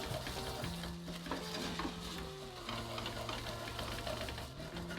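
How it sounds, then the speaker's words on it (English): A spoon stirs thick tomato paste around a hot pan, giving a steady scraping, sizzling texture close up, with a low hum running underneath and no talk. "Give it a really good stir."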